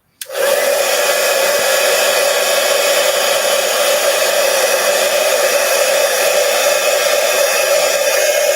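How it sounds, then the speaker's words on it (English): Blow dryer on its low setting drying ink on a stamped card, switching on with a quick click and then a steady loud whooshing hum that continues alone without any talk. "you can use your lower setting and blow dry this and dry up our ink."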